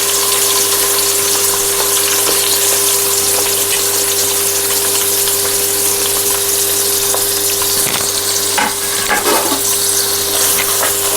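Large onions sauté in a pan for chicken biryani, producing a loud, continuous, even sizzle with a low steady hum beneath and a few brief scraping stirs near the end, with no voices.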